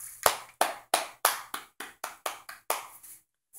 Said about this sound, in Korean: 아주 박수.